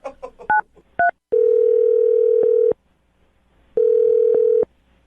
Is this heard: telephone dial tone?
yes